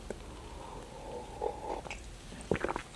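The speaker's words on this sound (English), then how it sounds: "I'm going to take another sip of the coffee" A person takes a sip of coffee close to the microphone, a faint slurping draw followed by a short swallowing gulp and mouth sounds, quiet and alone without talk.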